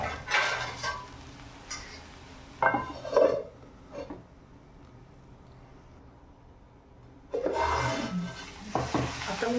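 A plate is set over a pan of cooking bhendi (okra) on low gas as a makeshift lid, giving a few sharp clinks and scrapes of crockery against metal, followed by near silence, then more clattering.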